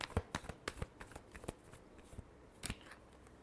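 Tarot cards being shuffled by hand in a quick run of crisp riffling snaps, sharp and close, thinning out midway before a last flurry of clicks near the end.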